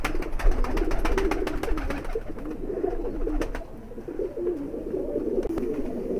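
Pigeons, including a Bajra Devbandi cross breeder, coo in a steady, dense murmur at close range, with soft throaty calls layered over one another and no talk.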